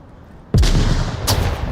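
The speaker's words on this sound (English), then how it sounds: "what a nade toss by Pasquin." A loud, booming blast from a grenade in the VR shooter Onward, followed a moment later by a second sharp gunfire burst, both close and heavy with low rumbling tails.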